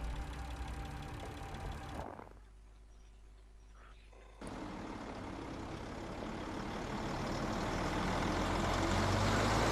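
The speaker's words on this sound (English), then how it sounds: "Start the truck and head up there." A truck engine in a video game rumbles low and steady, cuts to a quieter stretch, then comes back in and settles into an idle that slowly swells louder toward the end.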